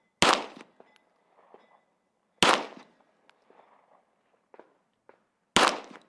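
Three sharp handgun shots at an outdoor range where 2-inch target squares are being shot, spaced a couple of seconds apart, each loud and close with a quick decay, with faint shuffling and clicks between them.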